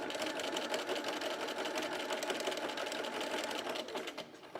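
A sewing machine runs a three-step zigzag stitch while sewing a Loftus bralette, its fast, steady mechanical chatter continuous and close for the whole stretch, easing slightly near the end.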